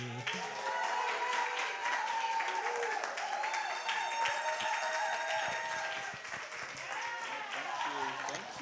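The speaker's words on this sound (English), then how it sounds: "thank you so much, everyone, for your amazing applause" Audience applause at a creative wildfire art showcase welcoming a speaker, steady and sustained throughout, with cheering and voices mixed in over the clapping.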